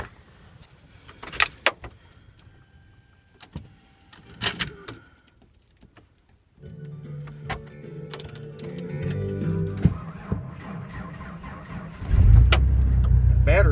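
A Ford truck's starter cranking on a weak battery in the cold, preceded by keys jangling and door clunks, then a sluggish labored cranking that builds into a louder engine noise at the end.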